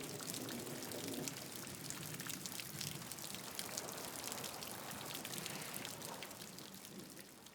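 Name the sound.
rain falling outside a hide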